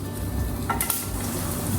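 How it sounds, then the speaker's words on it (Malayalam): Garlic drops into hot oil where mustard seeds are already popping, giving a close, continuous sizzle with a brief clink of a utensil partway through and no speech. "കുറച്ച് വെളുത്തുള്ളി ഇട്ട് കൊടുക്കാം,"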